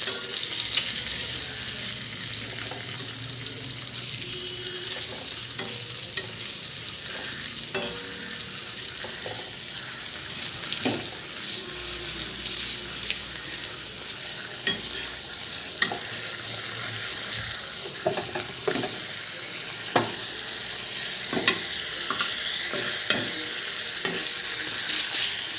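Fish sizzles steadily in hot oil in a pan, a dense continuous crackle with scattered sharper pops and occasional stirring scrapes, close and loud throughout with no talking.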